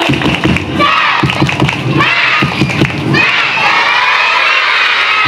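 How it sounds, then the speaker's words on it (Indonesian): Children in a group doing a rhythmic clapping chant at a Maulid Nabi storytelling gathering, loud sharp claps in steady bursts over the first three seconds, followed by excited shouting and cheering from the crowd. "Yuk tepuk semangat dulu."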